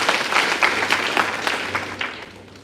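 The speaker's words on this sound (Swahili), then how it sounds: "Makofi kwa Gesusu." An audience applauds at a scholarship launch event, steady clapping at close range that holds throughout, with no talk over it.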